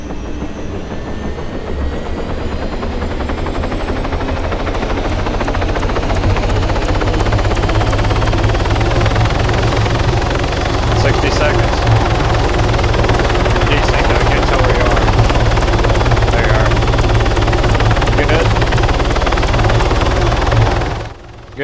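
Helicopter rotor and turbine noise in the military video game Arma 3, loud and steady for the whole stretch with a constant thumping drone and faint voices underneath.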